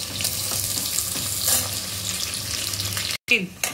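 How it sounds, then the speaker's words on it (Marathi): Chopped onion frying in a pan for biryani gives a steady close sizzle throughout, briefly cut by a short gap near the end. "कांदा जरा लालसर भाजून घ्यायचा आहे। 2 ते 3 मिनिटं आपण कांदा चांगला परतून घ्यायचा आहे।"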